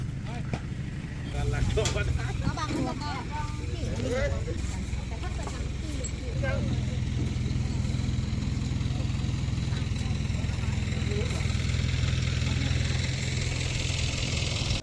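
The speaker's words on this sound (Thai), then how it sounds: "มันคือเครื่องยนต์คอมมอนเรล มันใช้คอมพิวเตอร์ควบคุมการทำงานทุกอย่าง" A computer-controlled common rail diesel engine on water-well drilling equipment idles steadily, a constant low mechanical rumble and vibration, with some voices talking over it early on.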